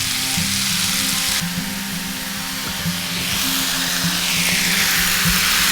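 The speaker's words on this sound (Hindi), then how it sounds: "बस मोटी जिंजर है, 30 सेकंड्स के लिए हॉट ऑयल में स्टर करना है बस" Thick-cut ginger stirring in hot oil: a loud, continuous sizzle and crackle, close up, with low background hum throughout.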